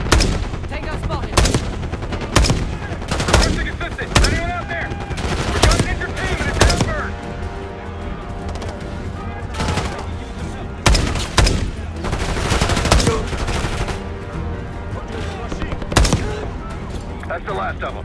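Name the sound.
heavy gunfire in the video game Call of Duty: Black Ops 6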